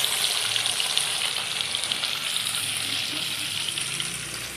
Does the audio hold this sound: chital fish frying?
yes